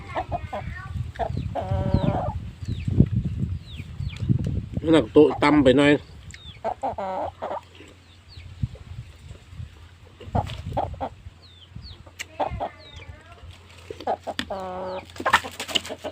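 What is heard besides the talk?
chickens clucking in a chicken coop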